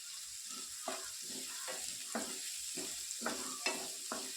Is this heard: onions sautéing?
yes